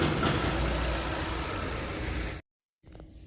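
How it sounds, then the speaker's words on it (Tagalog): The engine of a 2025 Jetour X70 car runs at a steady, close drone that cuts off abruptly, followed by a brief quieter rustle. "So mandar na yung makina."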